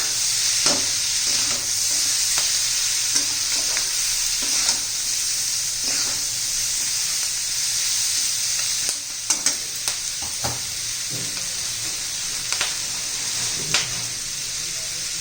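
Capsicum sabzi being stirred with coriander powder in a pan, a continuous close sizzle broken by frequent scraping and clacking spatula strokes, heavier and quicker in the second half, with no voices.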